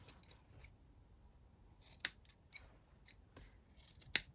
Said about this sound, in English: Okay, now that's stitched, I'm going to cut off the corners